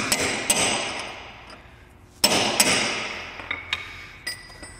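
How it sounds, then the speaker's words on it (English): Sharp metallic hammer blows on a chisel, staking an axle nut on a 1997 Subaru Legacy, ring out one at a time, a few loud strikes with decaying ring between them, then lighter taps, close up. "The final step will be to come in and just take a chisel and a hammer."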